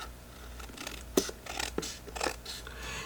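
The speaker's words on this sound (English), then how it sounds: "I'm going to cut this edge off just a little bit." Scissors trim a paper page edge on a junk journal cover, giving a few close, faint crisp snips and scratchy paper rustles with no talk.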